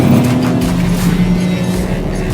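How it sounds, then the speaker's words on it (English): A car driving fast on a racetrack and running smoothly over the curbs into a curve, with a steady loud engine and road rumble that stays constant throughout. "It's fascinating to feel the car travelling so smoothly over the curbs."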